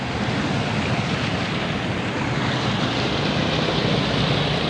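A vehicle ploughs through flood water on a road, a loud, continuous rushing splash of churned water that fills the whole moment without any voices.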